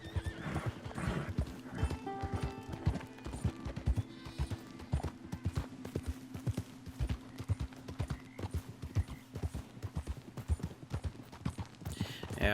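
A horse clip-clops at a steady rhythmic gait while being ridden in a video game, close and loud throughout, with a couple of neighs and whinnies breaking in over the hoofbeats.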